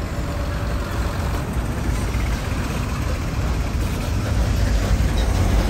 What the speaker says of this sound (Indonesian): Nah, wih, ini ada truk Mercy,